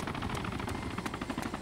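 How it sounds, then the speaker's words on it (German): Helicopter flying overhead in the DayZ Origins video game, a steady broadband rotor drone with faint rhythmic chopping, fairly loud and continuous, with no talk. "Das ist ein Spieler-Heli."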